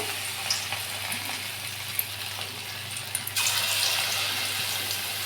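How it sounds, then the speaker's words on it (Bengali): Soybean pakoras go into hot oil kept over low-to-medium gas; a quiet background hiss suddenly swells into a louder, bright, steady sizzle as the batter hits the oil, with a few small clicks before. "এইবার আমি পকোড়াটা ছেড়ে দিচ্ছি তেলে"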